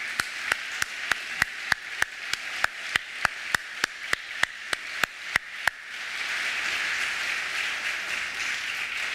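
An audience at the Golden Goose Awards ceremony gives applause: a steady run of evenly spaced sharp single claps, then a dense, sustained wash of crowd clapping.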